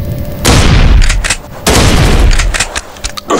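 Gunfire in the zombie shooter game The Last One, with loud broadband bursts of shots and explosive booms filling most of the stretch, pausing briefly between two heavy volleys.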